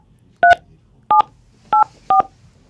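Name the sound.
telephone keypad dial tones on a phone line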